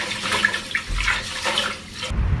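Water splashes and pours into a container while white rice is rinsed, a close, uneven sloshing that rises and falls in short surges, with no voices.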